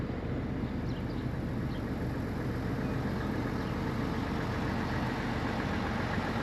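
A 3-liter Duramax diesel engine idles steadily at a constant, even low rumble with no talking.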